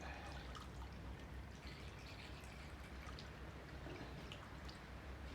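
Coolant pours through a funnel into a charge cooler radiator, a faint, continuous trickling and splashing with no talk.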